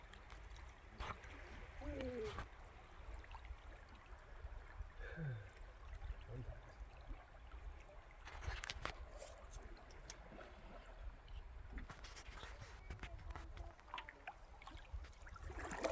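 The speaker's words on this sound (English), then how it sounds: "Nice, relaxing river canoe trip." A canoe drifts on the Chatanika River in Alaska, quiet flowing water trickling and lapping against the hull with soft paddle and boat knocks, faint and continuous, with occasional distant voices.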